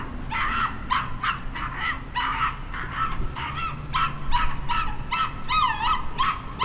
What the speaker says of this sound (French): Alors, même les chiens acclament.